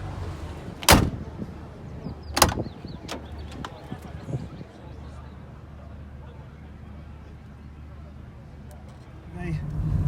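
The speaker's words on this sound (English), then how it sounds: "Proper sounding open and closing door on the Mark 1 Astra GTE." A Vauxhall Astra GTE Mark 1 car door thumps shut twice in quick succession near the start, followed by a few softer clicks and knocks over low background noise.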